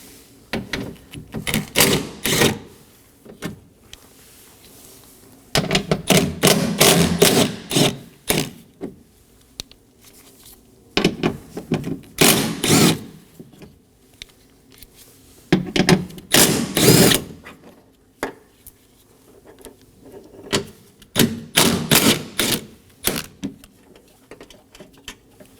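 Fasteners on a 2020–2027 Toyota Corolla front door come out one after another with a ratchet, several bursts of rapid clicking separated by pauses, close and clear with no talking.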